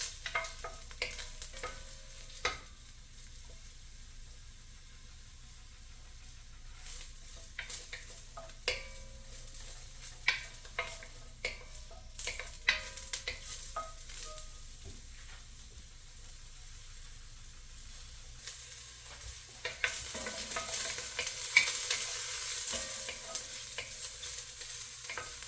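Mushrooms sautéing in a pan over medium heat: a soft, low sizzle with scattered spatula taps and stirring scrapes, fairly quiet and close, the sizzle swelling brighter toward the end.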